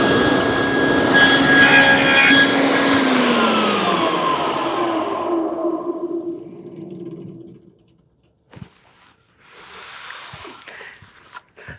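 Table saw with a sled cutting a dado in wood for a small bookshelf: a loud whining blade bite that winds down over several seconds, followed by faint scraping and handling noises.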